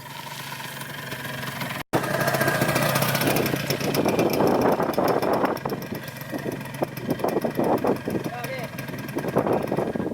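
A motorcycle engine idles steadily nearby, loud and chugging, while people talk over it; a brief cut breaks the sound early on.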